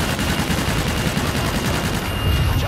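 Heavy automatic gunfire from the Call of Duty: Infinite Warfare video game: a dense, continuous barrage of rapid shots that stays loud and steady throughout, with a slight surge near the end.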